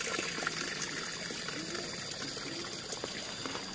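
Clear stream water flows steadily in a rural hilltop area, a continuous close trickling and gurgling wash with no voices over it.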